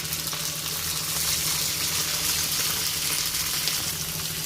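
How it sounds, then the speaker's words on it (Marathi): Garlic fries in hot oil with a loud, steady sizzle that hisses evenly and continuously without a break. "तेल तापलं आहे, त्याच्यामध्ये आपण लसूण टाकूया"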